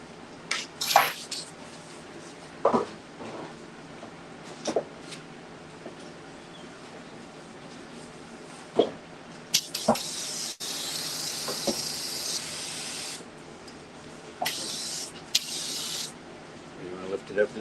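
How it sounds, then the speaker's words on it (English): A paint spray gun hisses in short bursts, then in longer sustained high-pressure blasts, close by, spraying candy paint through lace onto a flaked board, with clicks and light handling noises between sprays. "I like to spray my lace with a little bit high pressure"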